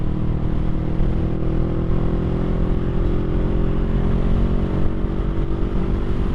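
Loud, steady engine drone from a 2021 Honda Rebel 500 SE motorcycle fitted with a Two Brothers exhaust, held on throttle at close range with deep, continuous rumble and no speech.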